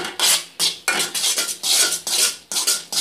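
Honeycomb candy mixture with baking soda is stirred vigorously in a pot, giving a run of loud, rhythmic scraping strokes of about two per second, close and unaccompanied.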